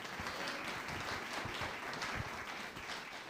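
A church congregation applauds steadily during a sermon, a dense wash of many hands clapping at an even level throughout, with no voices rising above it.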